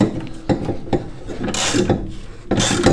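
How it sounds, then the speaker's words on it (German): A hand ratchet tightens the suspension on a Wartburg 353 in a garage, giving a few short bursts of ratcheting clicks at close range with mechanical clatter between them, no talk. "Und jetzt drehe ich hier oben klassisch bloß mit der Ratsche."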